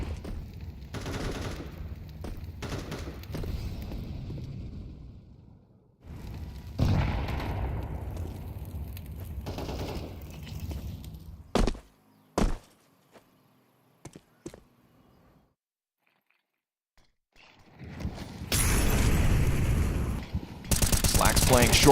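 Gunfire in a Counter-Strike match at a major esports tournament, bursts of rapid automatic shots and loud bangs separated by quiet gaps, ending in a heavy sustained volley, with voices in places.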